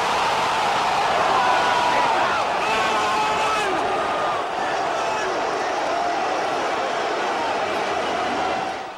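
A large stadium crowd of football fans roars continuously through a Fenerbahce vs Galatasaray match in Turkey, a dense far-reaching wash of chanting and shouting that barely dips across the whole stretch.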